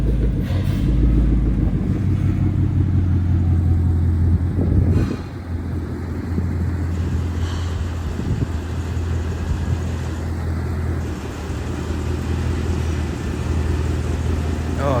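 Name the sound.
2014 Mustang GT engine revving with louder exhaust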